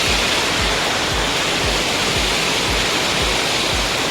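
Dhoni waterfalls in Palakkad, Kerala, roaring as a loud, continuous broadband rush of falling water with no voices, steady and close throughout.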